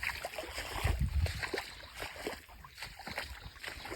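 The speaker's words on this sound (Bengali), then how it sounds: "পানির মধ্যে হাঁটি" Close sloshing and splashing of someone walking through clear shallow water, uneven watery steps and gurgles carrying on steadily for a few seconds with no talk.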